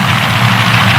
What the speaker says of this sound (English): he leaves a puddle of water, gets the tires spinning, and they actually start burning